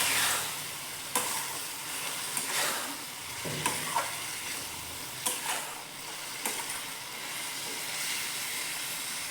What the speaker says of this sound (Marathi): ही डाळ आपल्याला चांगली व्यवस्थित त्याच्यात परतून घ्यायची बघा थोडी